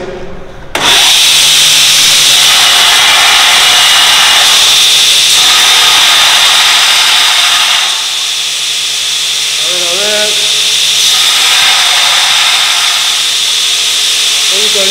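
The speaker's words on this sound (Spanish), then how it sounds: "Voy a lijar un poco con lija 36." Steady, coarse abrasive rasping of 36-grit sandpaper against metal, loud and continuous, with a few faint squeaky tones near the end.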